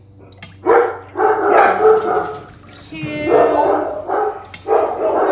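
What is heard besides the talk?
dogs barking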